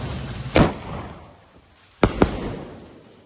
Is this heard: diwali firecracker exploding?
yes